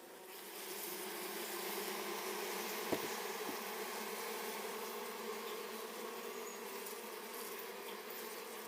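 Honeybees buzzing steadily inside an opened hive during a beekeeping inspection, a loud continuous drone with a faint tap partway through and no talking.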